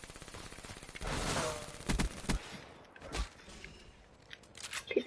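A PPSh submachine gun fires in a video game, rattling off rapid automatic bursts with sharp shot clusters and gaps between them, close and loud, with no one talking.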